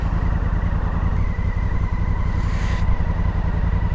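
A motorcycle rides through traffic, its engine a steady close drone with low rumble that holds throughout, no voices over it.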